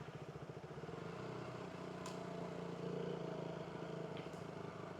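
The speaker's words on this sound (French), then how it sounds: "Les moteurs de KTM monocylindre sont tellement bruyants" KTM Duke 200 single-cylinder motorcycle engine ridden at night in Singapore traffic, a steady buzzy thumping drone close to the rider with a slight swell in the middle.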